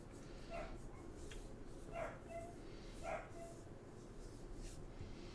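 A puppy gives three short, faint yips at roughly one-second intervals against a low background rumble, heard at a distance in an outdoor hunting-game setting.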